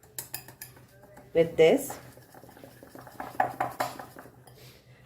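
Tandoori chicken is mixed with masalas in a bowl, giving close clinks and scrapes of a utensil against the dish with squelchy stirring, while a person speaks briefly.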